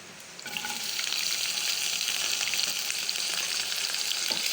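Potatoes tipped into hot oil with green chili, a dried chili and a bay leaf set off a loud, close sizzle that jumps up after a brief quieter start and then holds steady, with no speech.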